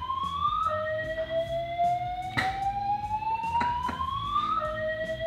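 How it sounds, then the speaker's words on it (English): A building fire alarm rings in loud repeating electronic tones that sweep up and down, sounding continuously and close with sharp clicks between cycles. "Someone tripped the alarm."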